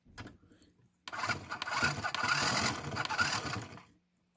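A Side Winder bobbin winder, a small motorized sewing tool, starts up after a few quiet sounds and whirs steadily with a rough, buzzing hum for about three seconds before stopping.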